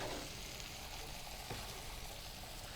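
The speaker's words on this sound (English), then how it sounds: "you're gonna get a light saute on it" Onion and mushroom get a light sauté in a pan for a marsala dish, giving a soft, steady sizzle and frying hiss that stays faint and even throughout.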